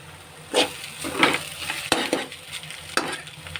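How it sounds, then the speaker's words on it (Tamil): Egg stir-frying in a pan with green chilli and curry leaves, a steady low sizzle broken by several bursts of stirring and scraping, close and fairly quiet. "இப்போ பாருங்கள் முட்டை நல்லா வதங்கிருச்சு"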